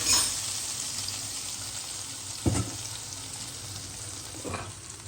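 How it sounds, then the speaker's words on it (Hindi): Hot tadka tempering poured over kadhi pakora sizzles and crackles steadily, with two sharper bursts of spattering as it hits the curry, close and fairly loud with no talking. "और बस अब पकौड़े डाल के इस पे लगाते हैं तड़का।"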